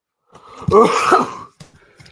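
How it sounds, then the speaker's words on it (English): One close, throaty cough, or a short cluster of coughs, in a quiet room, followed by a faint breath. "I still got a little cough"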